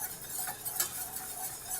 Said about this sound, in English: I'm going to take a whisk and we're going to make a roux